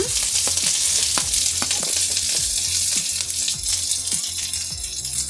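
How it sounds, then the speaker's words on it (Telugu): Onion, garlic, fennel seeds, dried red chili, cinnamon and cloves fry in a hot pan, a steady close sizzle broken by repeated scrapes and clinks of stirring. "సోంపు, ఎండుమిరపకాయ, చెక్క, లవంగాలు అంతా వేసి బాగా ఫ్రై చేసుకోవాలా"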